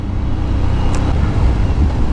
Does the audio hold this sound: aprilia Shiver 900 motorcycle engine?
yes